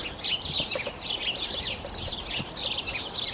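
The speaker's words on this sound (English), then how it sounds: "You hear magpies even joining in" Spring birdsong with magpies and many small birds, a dense mix of high chirps and trills repeating continuously from nearby, filling the air with no talk.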